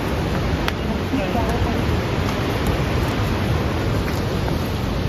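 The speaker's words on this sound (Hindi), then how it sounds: "सामने ना बर्फ का ग्लेशियर है, उसके नीचे से पानी निकल रहा है।" A steady, broad rush of meltwater flows out from beneath a glacier on the Baltal route to Amarnath, constant and fairly loud with no breaks.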